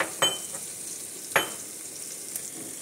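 A veg pulao mixture with ginger paste fries in a pan while being stirred, a quiet sizzle broken by two sharper spatula knocks against the pan, no voices.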